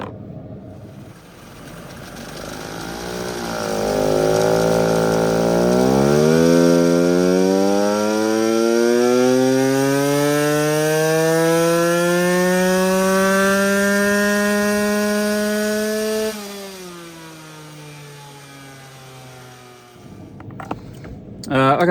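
A 2023 KTM throttle-body-injected motorcycle engine on a dyno, revving up from idle through a long rising sweep and holding high before dropping off, loud and close.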